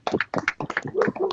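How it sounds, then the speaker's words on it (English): A group of people, a motorsport drift team, claps in a short round of applause, with sharp irregular hand claps close by and some voices mixed in. "Can we have a round of applause for Boris?"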